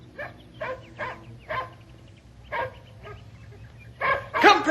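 A working dog barks in a Ranger Bill radio drama, a steady series of about seven single barks, close and clear, ending in a burst of excited yips and whines.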